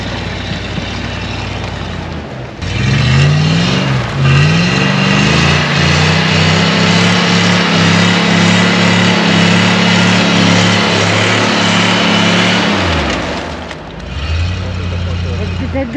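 A GAZ-66 truck on arched wheels strains on a rough off-road route, its engine revving hard and holding a loud, rising roar for about ten seconds before easing back to a rough idle, with people talking over it.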